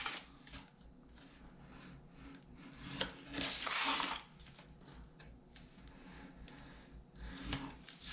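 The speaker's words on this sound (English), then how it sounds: "Now I'm going to take my finger blade, go in, and miter my edges." A finger blade mitres the edges of folded paper in soft, close scraping and rubbing strokes, with a longer rasping pass in the middle and lighter ticks around it.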